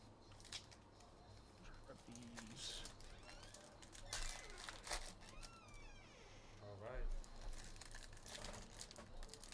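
Foil baseball card packs from a 2022 Elite Extra box break tear open with a steady crinkling and crackling of wrappers, close and fairly loud, while people talk nearby.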